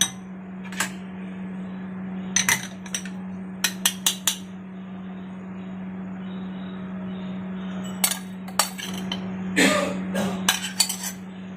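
A spoon stirs tulsi powder and glycerin into a soap mixture in a bowl, sending scattered metallic clinks and scrapes over a faint steady hum, in bursts separated by quieter pauses.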